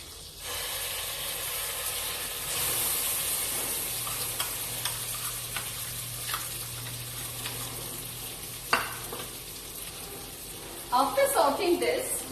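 A garlic, tomato, chili and cashew paste sautéing in a pan, giving a steady close sizzling hiss with occasional stirring clicks and a brief scrape near the end.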